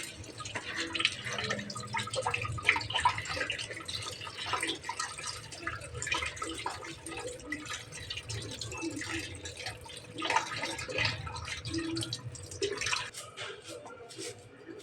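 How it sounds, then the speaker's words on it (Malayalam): Flattened rice (poha) is washed in water, with continuous dripping, sloshing and splashing up close for several seconds. "ഇനി നമുക്ക് ഈ അവൽ നന്നായിട്ട് ഒറ്റ പ്രാവശ്യം കഴുകിയെടുക്കാം."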